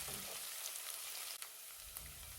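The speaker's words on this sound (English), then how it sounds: "Stir fry the chopped onions and chopped garlic for about 3 minutes, but be careful so it doesn't get burned" Chopped onions and garlic stir frying in a pan for jollof spaghetti, a steady faint hiss of frying with a couple of brief clicks from stirring, heard alone without talk.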